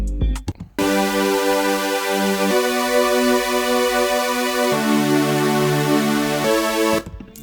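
Bright future bass supersaw chord built in Vital with 16-voice unison and chorus, sustained chords stepping through several changes over about six seconds, loud and alone with no talk.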